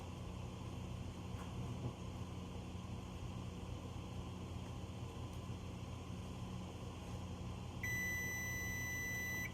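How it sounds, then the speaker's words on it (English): A kitchen timer beeps with a steady high electronic tone near the end, sounding over a constant background hum from appliances in a home kitchen where jalapeño cheese bagels are being boiled. "There's the timer."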